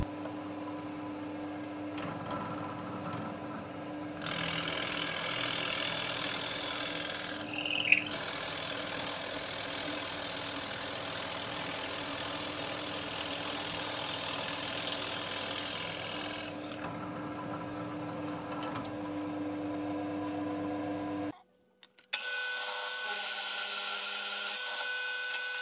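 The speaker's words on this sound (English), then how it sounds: "now we're going to go over to the pillar drill and just drill those straight 90-degree angles," A pillar drill bores 20mm straight holes through wood, a steady loud grinding whir running continuously with a brief sharp catch partway through, then cutting off to near silence before a lighter, hissier burst.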